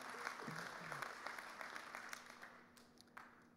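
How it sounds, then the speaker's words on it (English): Light, sparse applause from a convention audience, a few scattered claps rather than a full ovation, fairly distant and fading, with some faint murmuring underneath. "We'll take one clap for operating assistance there, I guess."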